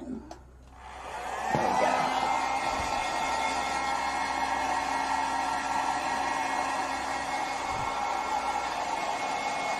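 A hair dryer blows steadily on wet paint on a flamingo painting, starting after a brief click and then a constant loud whirring airflow, with a few words spoken over it at the start.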